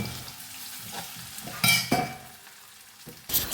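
A spoon stirs crushed ginger and garlic frying in hot coconut oil for a raw banana masala curry, with a soft sizzle underneath and a few sharp scraping strokes against the pan.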